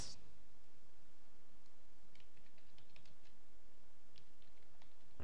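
Typing on a computer keyboard, a quiet stream of small clicks and key taps in irregular bursts, close and faint, with no talk.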